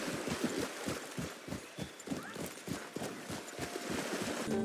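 Horse hooves clip-clopping in a steady, fairly fast rhythm as a rider leaves a town behind, dusty and windy, the beats clear and close over a broad noisy wash.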